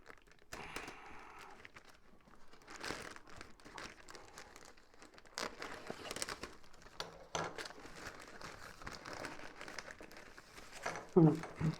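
Plastic bag holding an AliExpress parcel crinkles and rustles as it is unpacked, in bursts of close handling noise with a few louder crackles near the end; someone talks over it.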